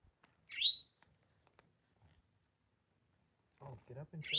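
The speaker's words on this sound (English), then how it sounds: "There's a little bird going crazy right now." A small bird on a wooded trail near McAfee Knob on the Appalachian Trail gives two sharp, high chirps a few seconds apart, close by in otherwise quiet air, with someone briefly talking just before the second.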